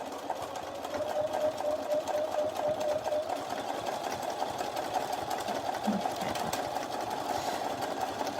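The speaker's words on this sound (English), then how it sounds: "I want to make sure that I'm going to be stitching close to that folded edge." A sewing machine runs steadily, stitching close to the folded edge of fabric, with a continuous even mechanical whir throughout and no voices.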